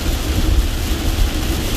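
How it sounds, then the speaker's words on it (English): Heavy rain pounds a car during a downpour in flooding weather, with dense steady roar and low rumbling thunder throughout, loud and close with no talk. "When it rains like this, where you can barely see out the window"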